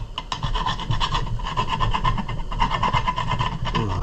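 Steady rasping and rubbing of abrasive scrubbing on a copper cross to clear black residue, continuous and fairly close with a rough, scratchy texture throughout.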